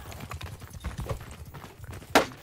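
Horse hooves clop at a gallop in a medieval combat video game, a steady rapid beat with game noise underneath and a sharp hit near the end.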